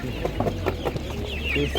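Chickens cluck in a busy outdoor animal market where poultry and broilers are sold, a steady run of close clucks and calls over crowd murmur and a constant low hum.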